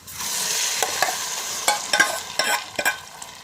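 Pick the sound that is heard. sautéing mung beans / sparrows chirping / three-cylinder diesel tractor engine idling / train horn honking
sautéing mung beans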